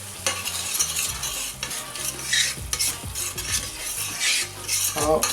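Wet spices, broth and onion for a lamb curry sizzle in a pan while a utensil scrapes and stirs in repeated, irregular strokes, close and clear with no talking.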